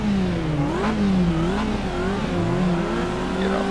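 A race car in the Assetto Corsa racing game accelerates hard, its engine note climbing and shifting through rising, falling pitches. The sound is loud and continuous, with faint tire squeal and no talking.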